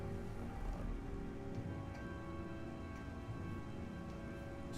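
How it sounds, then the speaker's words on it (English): Rain in Metroid Prime 3: Corruption falls as a steady, soft, broadband patter, continuous and even with faint droplet ticks and a low rumble underneath. "the rain just randomly appears sometimes in this game, huh?"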